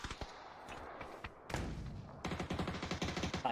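Gunfire in a competitive video game match, sharp single shots early, then a heavier burst and a rapid rhythmic run of automatic fire, close and punchy.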